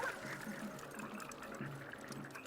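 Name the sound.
water splashing in Splatoon Raiders video game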